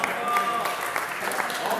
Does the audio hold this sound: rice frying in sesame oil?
no